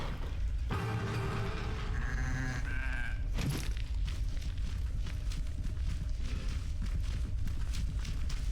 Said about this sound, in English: There's our sheep.